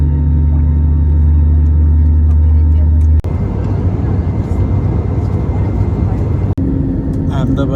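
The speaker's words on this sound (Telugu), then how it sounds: "Take ఆఫ్కి ready." An airliner's engines build on the runway for takeoff on a flight landing in Ahmedabad, heard from inside the cabin: first a steady low hum, then a loud broadband roar that holds steady.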